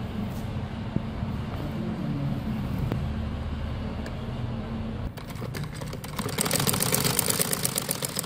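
A sewing machine stitching the folded edge of an umbrella frock, with a steady mechanical hum that breaks into a faster, louder rattle of stitching in the last few seconds.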